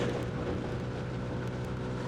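A Boom Vader 125cc motorcycle, a Honda Grom clone with a new Chinese engine, held at full throttle at top speed, giving a steady droning roar mixed with heavy wind rush, with no voices.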